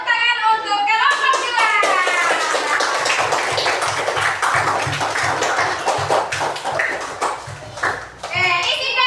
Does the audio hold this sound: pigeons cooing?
no